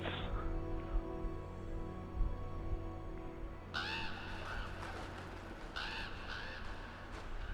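A crow caws several times in a row, harsh and fairly close, following a quiet stretch of low background hum.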